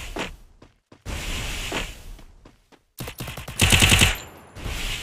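Gunfire in the shooter video game Free Fire: sharp bursts of rapid automatic shots and single cracks in uneven clusters, loud and close, separated by short pauses.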